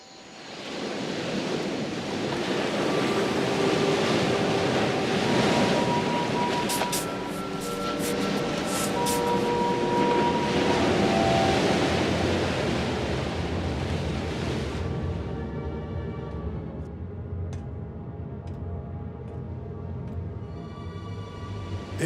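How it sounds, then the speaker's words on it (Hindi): Strong, heavy ocean waves surge and roar continuously at sea as a boat prepares to empty its tanks, a loud broadband wash that fills the whole stretch and eases slightly toward the end. "लहरें काफी तेज हैं।"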